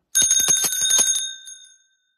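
A small bell is rung rapidly about eight times in a quick bright trill, close and clear, then left to ring out and fade over half a second with no talking.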